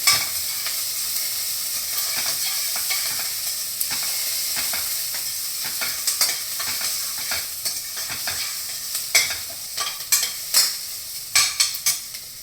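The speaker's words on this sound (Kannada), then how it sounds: "ಈರುಳ್ಳಿ ಹುರಿತಾ ಟೊಮೆಟೊನ ಕಟ್ ಮಾಡ್ಕೊಂಡಿರ್ತೀನಿ. ಈರುಳ್ಳಿ ಬ್ರೌನ್ ಆಗಬೇಕು ನಮಗೆ." Onions browning in a pan give off a steady, close sizzle that runs the whole time, with sharp clicks and scrapes of a utensil stirring them that get louder toward the end.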